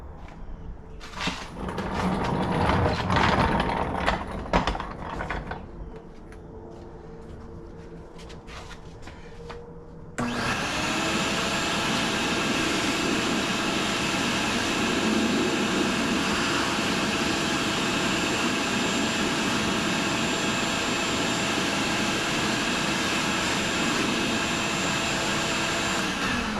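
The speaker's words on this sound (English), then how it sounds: "Now I think I can vacuum this out." A vacuum cleaner sucks debris out of a car's cabin air intake, first uneven and clattery as it works in, then settling into a steady, loud, continuous whine and roar that runs unbroken with no talking.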